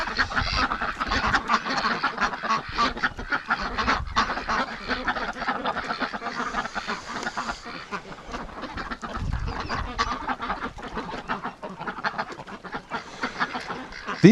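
A flock of ducks quacks and honks constantly at close range while crowding into a tub, with busy overlapping calls and occasional splashing.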